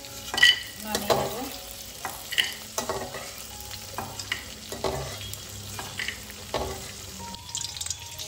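Cashew nuts, raisins and potato pieces fry in a pan for pulao, sizzling steadily with repeated bursts of stirring and scraping, close and fairly loud throughout.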